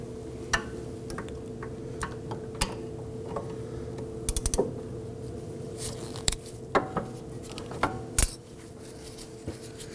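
A ratchet works a brake caliper bolt loose on a 2005-2009 Subaru Legacy: close, crisp clicks and ticks in irregular bursts, with a few sharper metallic clanks over a low background hum.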